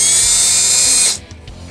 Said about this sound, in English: I need to drill out a little more for the pickup screws